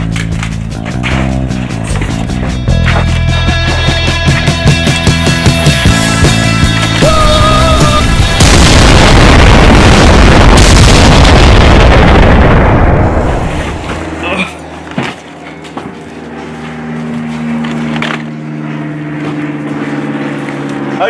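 A tank is destroyed in a movie battle: a deep, loud, sustained explosive roar swells over a musical score and then fades into rumbling debris, with voices around it.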